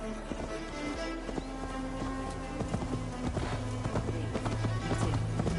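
Horse hooves clip-clopping steadily as a rider moves through a forest in the video game Assassin's Creed Valhalla, a continuous rhythmic gait over ambient game sound and music.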